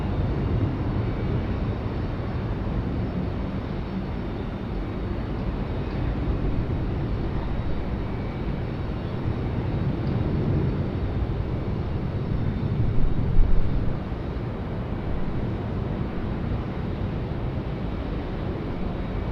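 A United airliner takes off from Raleigh-Durham airport, heard as a steady, broad, distant jet roar that holds level throughout and swells slightly briefly near the end, with no talking.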